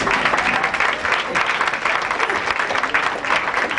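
Steady, dense applause from a large audience fills the whole stretch at close range, loud and even with no pauses, answering a call to clap for Algeria.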